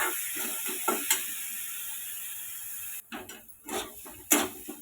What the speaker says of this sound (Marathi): कढई गरम असल्यामुळे ना आपला मसाला छानपैकी परतला जातोय